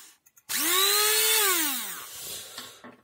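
A repaired hand mixer blender motor spins up abruptly, its high whine sweeping up and holding for about a second and a half before winding down and dying out, with small clicks before and after.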